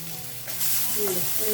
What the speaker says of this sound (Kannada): ಇದಕ್ಕೇನೆ ಒಂದ್ ಸ್ವಲ್ಪ ಆಶಾ ಬೆಳ್ಳುಳ್ಳಿನ ಹಾಕೊಳ್ಳೋಣ